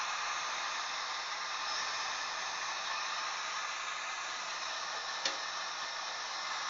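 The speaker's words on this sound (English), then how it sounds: "I'm just going to use my heat gun to force dry this a little bit" A heat gun blows steadily and close up to force-dry a primer coat on a scale model, making a continuous even hiss with one faint tick partway through.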